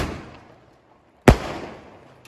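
A single Diwali skyshot firecracker bursts with one sharp, loud crack after a quiet lull, then trails off in a fading rumble and hiss; faint background noise precedes it.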